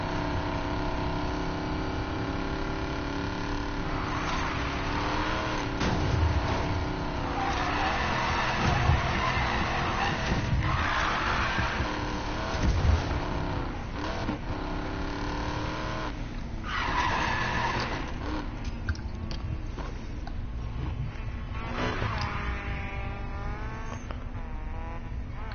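Race car in Need for Speed Payback, engine revving and roaring continuously with repeated loud tire skids and squeals throughout.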